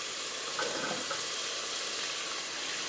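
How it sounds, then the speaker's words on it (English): Onions cooking with browning ground beef in a pan for shepherd's pie, a soft, steady hiss of sizzling fat that stays even and fairly quiet throughout, with no voices. "let those cook up a little bit with the rest of the ground beef until the beef is, completely brown"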